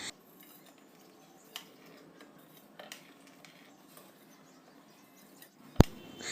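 A spoon adds masala spice mix to boiled milk, making a few faint clinks against the pot and one sharper metallic tap near the end in an otherwise quiet kitchen.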